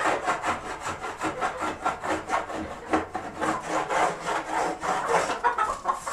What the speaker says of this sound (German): bei jedem Stall sauber machen gehe ich über die Sitzstangen mit einem Handbesler drüber